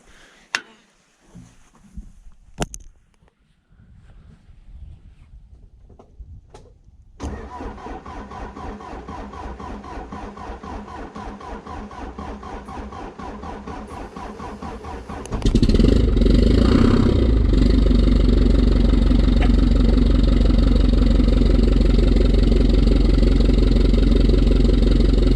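A Franklin log skidder engine starts in snowy cold after a few clicks and clanks, catching into a rapid rhythmic clattering idle, then surging to a much louder, heavy steady roar close by.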